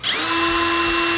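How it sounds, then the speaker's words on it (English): A power drill whines steadily at a constant pitch, bit boring into a steel bracket from close by, over about a second with no talking. "we'll center punch that and drill that out to 5/16"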